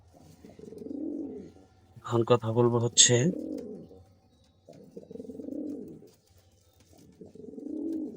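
Male pigeon cooing in a loft with chicks in the nest, several soft rolling coos spread through the clip, mixed with someone talking close by.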